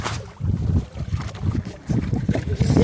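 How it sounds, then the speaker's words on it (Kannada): A boat moving on open water gives a rushing, uneven wash of water and wind buffeting the microphone, rising and falling in loud surges close by, with no clear talk. "ಏ ಯಪ್ಪ ಬೋಟ್ ಬ್ರೋ"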